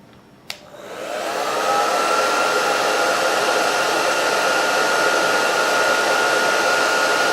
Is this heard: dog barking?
no